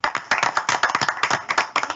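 A round of applause at a county Board of Supervisors meeting, a small group clapping briskly in close, loud, rhythmic bursts for a couple of seconds with no talk over it.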